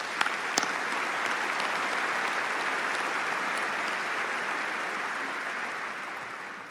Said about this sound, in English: Can we please have a round of applause for the special group of leaders?